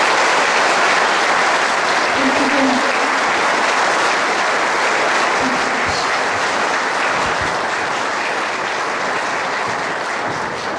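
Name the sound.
audience applause after a song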